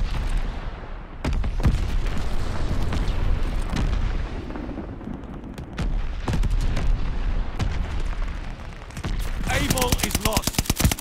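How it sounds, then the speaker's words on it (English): Glide bomb blasts in Call of Duty Vanguard multiplayer: a dense run of heavy booms and rolling explosions, with sharp crackling gunfire bursting in near the end, loud and continuous throughout. "Friendly sending a glide bomb"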